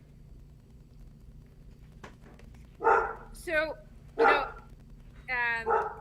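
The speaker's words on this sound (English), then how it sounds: "No, that's not my dog." Dogs bark a few times in short, loud, yappy bursts with a whimpering yip, close by, while someone speaks over and around them.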